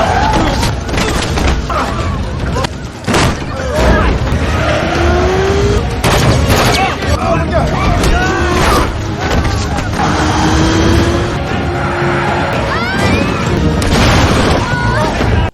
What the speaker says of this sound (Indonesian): Luke segera menembaki kaca mengeluarkan gas air mata.